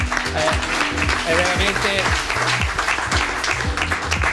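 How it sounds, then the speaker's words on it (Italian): Audience applause at a dinner evening with cycling champions, a steady clapping wash under someone speaking Italian over it, loud and continuous throughout. "Io farei un applauso"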